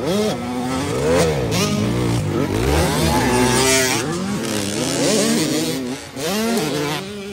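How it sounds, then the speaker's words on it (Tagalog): Small 65cc motorcycles in a kids' under-15 race in Dagumbaan, Maramag, Bukidnon rev and whine loudly at close range, several engines overlapping with rising and falling pitch throughout. "ikatolo Ginbags, riding 65cc"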